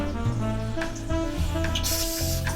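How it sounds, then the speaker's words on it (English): A Japanese toilet's bidet runs its rear spray, a steady hissing jet of water close by that continues throughout, with a brief brighter burst of spray near the end and no talking. "We've got the front spray there for the ladies and rear spray, so let's give that a little go."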